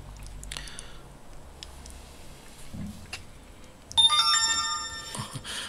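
A phone ringing at a workbench, a faint melodic ringtone rising in the latter part over quiet shop background and soft ticking.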